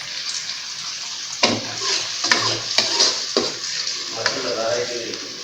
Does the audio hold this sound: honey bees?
no